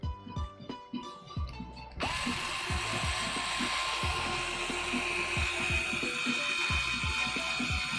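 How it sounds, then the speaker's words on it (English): A power screwdriver drives screws into a 3D-printed MOG RC truck kit, first in short whirring bursts and then in one long, steady drone over a background hum and faint music. "We are screwing this MOG so hard with all these screws."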